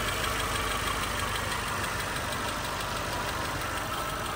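A 2012–2014 Lada Largus engine idles steadily up close, a continuous even rumble with a faint rhythmic tick running through all four seconds and no voices.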